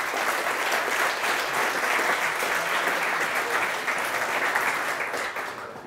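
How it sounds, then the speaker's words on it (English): An audience at a startup pitch event claps loudly and continuously, a dense wash of applause close by that fades slightly toward the end. "round of applause for you"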